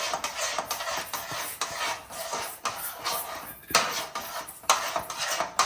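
A spoon stirs a cooking dish in a pot, likely a semolina dish like upma, making repeated scraping and clinking metal sounds in an irregular rhythm, close and moderately loud with no talk.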